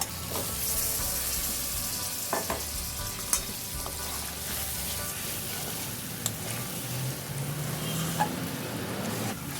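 Fried eggs and potatoes sizzle with spices in a pan, a continuous close frying crackle broken by occasional sharp clicks and scrapes of stirring.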